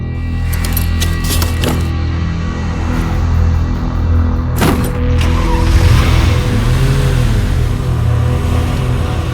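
A car starts up and pulls away nearby, its engine revving loudly and rising in pitch, with a sharp burst partway through as it drives off.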